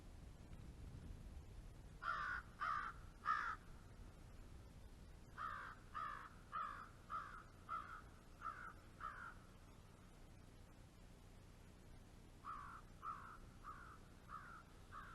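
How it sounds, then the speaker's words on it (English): Crows cawing by a fire-scarred lake in West Dalhousie, Nova Scotia, in repeated bursts of three to six harsh calls with pauses between, moderately distant over a quiet outdoor background. "The birds come back anyways."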